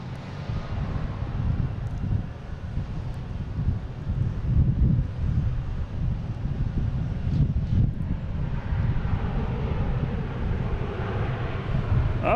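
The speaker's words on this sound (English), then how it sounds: "And A321's coming in from Seattle" Airbus A321 airliner arriving at Boston Logan, a steady, broad low rumble of jet engines with wind buffeting the microphone, holding at an even level throughout with no talk.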